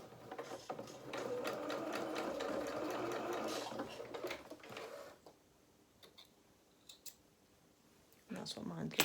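A sewing machine stitches a quarter-inch seam in a close, steady whirring run for about five seconds, then stops, leaving faint clicks and handling sounds before a short burst resumes at the end.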